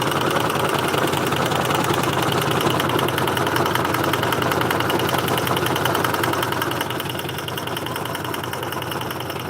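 A sewing machine runs fast on a zigzag stitch, making a rapid, even mechanical clatter that stays close and steady throughout, with no voices.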